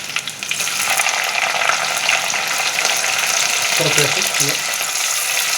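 Green chillies sizzling in hot oil in a pan along with ginger, a steady dense frying hiss throughout with a brief soft voice speaking partway through.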